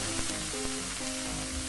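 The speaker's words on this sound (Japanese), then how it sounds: "炒めてください。" Black sea cucumber stir-frying with doubanjiang in a hot pan gives a steady, close sizzle with faint scraping stirs and no talking.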